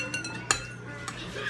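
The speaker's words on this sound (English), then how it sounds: "And then he's going to be stirring those up" Citric acid and rennet solutions for cheese being stirred, with a spoon clinking several times against a glass or metal container, light and close, and faint speech in the background.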